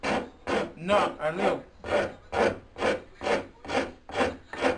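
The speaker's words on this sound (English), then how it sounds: "I'm gonna use the rasp to rasp just a little" A rasp files a taper at the bottom of a wooden chair leg, about ten close, regular scraping strokes in an even back-and-forth rhythm.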